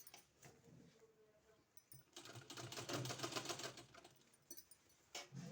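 A sewing machine stitching a kurti collar, running in a quiet, rapid mechanical patter for a couple of seconds between softer clicks and handling noises, faint and close.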